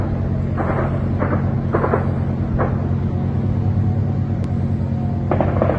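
Sharp bursts of distant gunfire during an attack in Russia crack out irregularly over a constant heavy low rumble, with several shots spaced a second or so apart.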